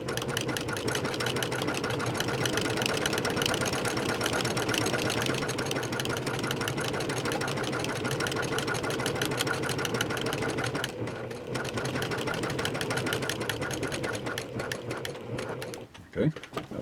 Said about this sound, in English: now we're going to come and stitch along this edge here to anchor it down